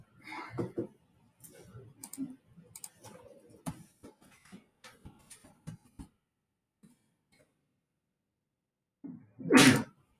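A single loud, abrupt sneeze near the end of a quiet classroom, following scattered soft clicks and faint rustling.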